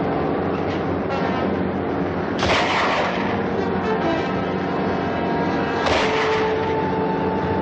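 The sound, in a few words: rifle shots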